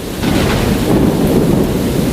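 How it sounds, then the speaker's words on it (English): Heavy rain pours down steadily in a thunderstorm, a loud, dense roar of water with a low rumble of thunder underneath, filling the whole moment without any voices. "The rain is pouring down."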